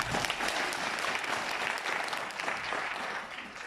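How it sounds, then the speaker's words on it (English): An auditorium audience claps together, a dense, even burst of applause that holds steady and then begins to thin slightly toward the end. "let's clap hands for those that have come for the first time"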